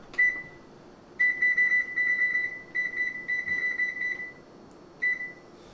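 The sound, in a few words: kitchen timer beeping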